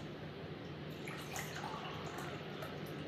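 Water poured into a cooking pot during a cooking demonstration, a steady, continuous rushing splash held at an even moderate level throughout, with no talk over it.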